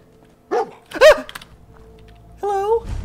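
A dog in a video game gives three short, loud, close barks with quiet pauses between them.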